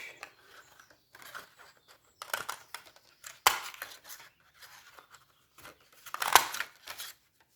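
Scissors snip through black paper for card making in a series of crisp, close cuts, arriving in irregular bursts of several snips with short pauses between them.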